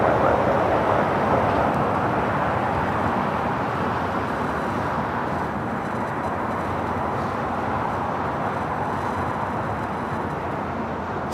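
An Embraer E175 LR jet arriving from Las Vegas at LAX produces a broad, steady roar of engine and air noise that holds for the whole stretch, gradually easing slightly, with no voices.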